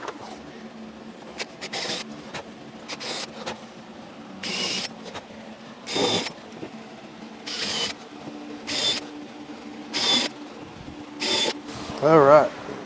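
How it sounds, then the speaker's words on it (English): A power drill runs in repeated short bursts, about ten spaced pulses, driving screws into safety treads on a wooden ramp, fairly close with light handling noise between bursts. "pre-drill, and then I'm going to run the screws in."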